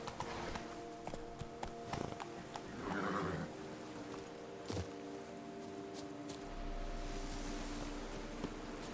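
Roach the horse in Witcher 3 moving along, with a rhythmic clip-clop of hooves, a neigh and jingling tack over a game's ambient backdrop.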